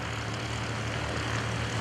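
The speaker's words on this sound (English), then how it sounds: "He's rolling the airplane all over the sky." Aerobatic propeller airplane rolling at the 2011 Greenwood Lake airshow, a loud continuous droning engine and propeller buzz with a steady low hum, heard without talk.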